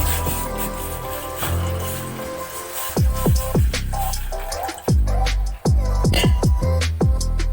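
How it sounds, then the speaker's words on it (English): Water splashes and trickles into a bowl set on a lit gas stove for herbal tea, with uneven pouring gurgles and sharp drips and splashes that grow busier and louder toward the end, with no talking. "And add some water"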